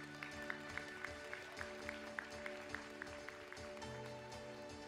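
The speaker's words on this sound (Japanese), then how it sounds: "皆様大きな拍手でお迎えください。" Faint applause from the audience welcoming a presenter at a beauty pageant, a thin patter of scattered clapping with a few distinct near claps over a steady background hum, quiet and distant.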